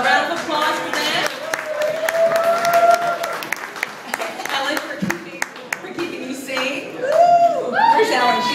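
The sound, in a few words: audience applause for sponsor Lansdowne Pub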